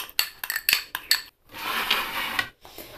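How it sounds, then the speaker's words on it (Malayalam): A spoon clinks a few times against a bowl, then scrapes steadily while thick maida flour paste is mixed into a glue for sealing bread snacks. "ഇതുപോലെ കട്ടിയിലൊന്ന് കലക്കി വെക്കണം."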